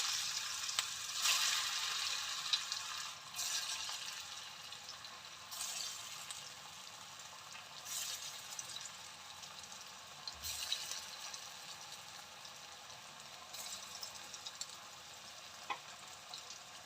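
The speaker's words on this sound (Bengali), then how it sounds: "এবার এই ধোকাগুলো ভেজে নেব।" Pieces of lentil dhoka sizzle steadily as they fry in oil in a pan, with repeated bursts of stirring scrapes over a continuous quiet crackle and no talk.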